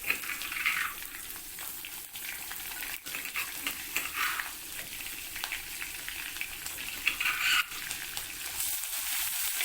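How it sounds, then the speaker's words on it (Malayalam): Crushed shallots dropped into hot oil with mustard seeds for a green papaya stir-fry, producing a continuous bright sizzle and crackle with occasional popping, close and moderately loud, no talk. "അതിനുശേഷം നമ്മൾ ചതച്ച് വെച്ചിട്ടുള്ള ചുവന്നുള്ളി ചേർത്ത് കൊടുക്കാം."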